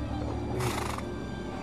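Horses whinny in one loud, close, shrill cry lasting under half a second, set against a continuous low rumble of outdoor ambience in a biblical-era drama scene.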